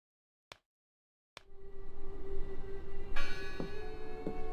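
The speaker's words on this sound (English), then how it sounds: "It must be her ringing the bell." A large bell rings in the video game Draugen, its tolling rising from silence after two faint ticks and ringing on with a sustained, resonant hum, with another strike partway through.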